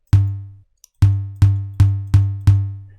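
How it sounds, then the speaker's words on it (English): A tom drum sample in a beat, pitched up high so it sounds short and plucky, strikes once, pauses, then hits five more times in a steady rhythm, each note clean and quickly decaying. "the cool thing about this sound is that what it really is a tom sound"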